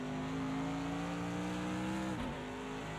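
AMG GT3 race car engine in Project Cars 2 at Bathurst, a loud sustained drone holding steady under acceleration down the straight, with a brief dip and shift near the end before the engine note resumes.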